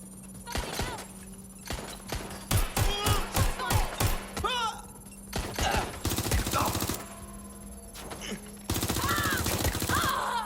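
Rapid automatic gunfire rattles through a shootout in Watch Dogs Legion, with tight bursts of shots and heavier sustained volleys. Voices shout in between, and a steady hum runs underneath.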